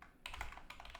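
Code being typed on a computer keyboard, a short quiet run of a few close key clicks with no voices.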